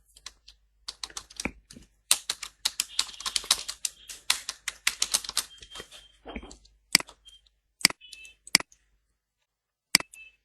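Keystrokes on a computer keyboard rattle in quick bursts, then thin out to isolated clicks and a few sharp, spaced taps near the end, close and dry with no talk.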